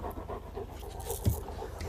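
A dog pants steadily with quick, rhythmic breaths, close to the microphone, with a low rumble in the background and a brief bump partway through, no speech.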